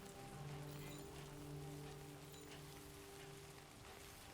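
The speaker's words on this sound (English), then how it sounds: "Rain, good start." Steady rain in the video game Death Stranding 2 pattering on a surface, with a low sustained tone running underneath; continuous and even throughout, no voices.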